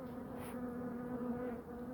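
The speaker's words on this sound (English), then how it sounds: "using smoke to move the bees around so I can access the comb and cut" Honey bees from a relocated beehive buzz in a dense, steady drone, close and fairly quiet, with no voices, and the sound ends abruptly.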